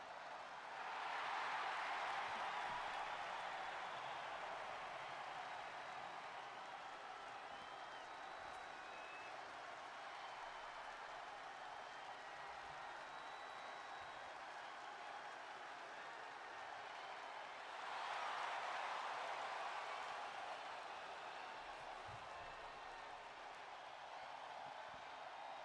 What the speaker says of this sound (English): The crowd chanting for the women's world champion here already, chanting Rhea's name.